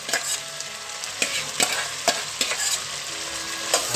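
Potatoes, carrots, green peas and cauliflower tossed into onions frying in oil and stirred for masale bhat: a constant bright sizzle with regular sharp spoon scrapes and clacks against the pan, close and without talk.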